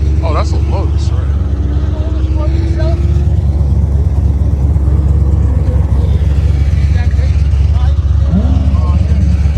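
A Lotus pulls away at a cars-and-coffee show, its engine a steady, loud drone throughout, with people chatting in the background.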